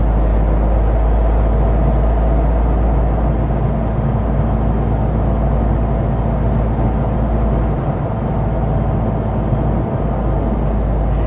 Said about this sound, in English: 6th gear here, just kind of cruise down the road